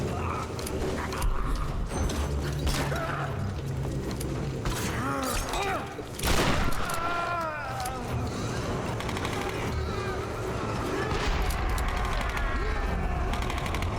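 Sporadic gunfire crackles through the Tomb Raider 2013 game scene, mixed with clanking mechanical sounds and ambient effects, with a brief louder burst near the middle.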